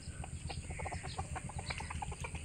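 A rooster's rapid clucking calls ring out close by in a farmyard as it summons a hen to food, a run of short repeated clucks over a steady low background hum.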